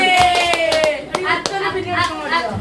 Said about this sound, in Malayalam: കൈയടിച്ച് പ്രോത്സാഹിപ്പിക്കാം